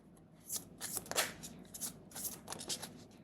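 A deck of tarot cards shuffled by hand, with a steady run of crisp riffling and flicking in uneven bursts, close up and without speech.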